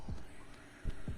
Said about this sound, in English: What's that heartbeat noise?